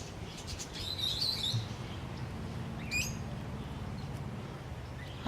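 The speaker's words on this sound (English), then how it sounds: "they are sun conures" Sun conures in a zoo aviary give scattered high chirps, loudest in a short burst near the start and another about midway, over a steady low rumble of background noise.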